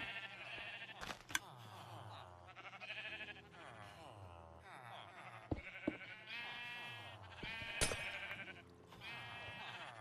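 Sheep in Minecraft bleat repeatedly in short wavering calls from several animals, close and clear, with occasional sharp clicks between them.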